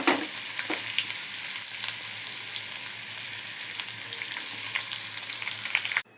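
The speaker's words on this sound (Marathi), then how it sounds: "तर आपण यामध्ये कांदा ॲड करू" Onion fries with curry leaves over low heat in a kadhai, making a continuous close sizzle with light stirring clicks that stops abruptly at the end, with no talking.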